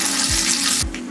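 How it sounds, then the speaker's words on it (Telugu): Garlic, cumin and curry leaves hit hot oil for a sambar tempering, a loud dense hissing sizzle up close that drops off sharply near the end, with a low hum beneath. "ఇప్పుడు ఇలా వేగిన తర్వాత తాలింపు వేసేసుకోవచ్చు"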